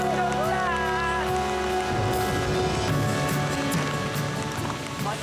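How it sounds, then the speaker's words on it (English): Rain patters steadily on an island survival camp, a loud, close broadband hiss heard under tonal background music and some brief voices. "it's raining."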